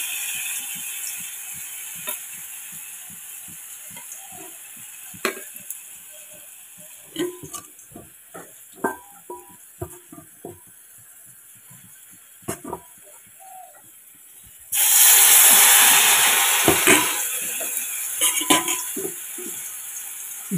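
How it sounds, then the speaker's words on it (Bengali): Coated lentil cakes (dhoka) frying in oil in a pan start with soft scattered clicks and pops, then a loud broadband sizzle bursts up for a couple of seconds before settling into a lower crackle. "ঝিমে আছে ধোকাগুলো ভেজে নিতে হবে"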